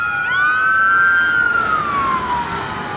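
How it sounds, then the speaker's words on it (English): An ambulance siren passes by outside, a loud rising-and-falling wail that swells near and then fades away over a few seconds, with no talk over it. "Got an ambulance going by"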